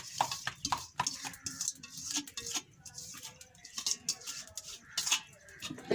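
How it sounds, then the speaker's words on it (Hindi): A spoon stirs grated carrots into simmering kheer in a cooking pot, giving a run of soft, uneven scraping and clinking taps against the metal at close range, with no talking. "अच्छी तरह मिक्स कर देती हूँ।"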